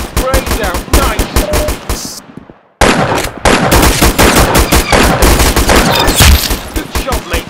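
Rapid, close gunfire from the Roblox shooter Arsenal rattles almost nonstop in dense bursts, broken by a brief pause partway through before resuming just as loudly.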